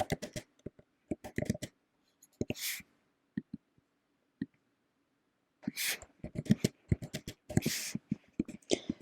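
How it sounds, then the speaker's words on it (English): Keys clatter on a computer keyboard in quick irregular bursts while a list is typed up for Python code, with a few soft breathy noises between the clicks. "I'm just going to type up my list."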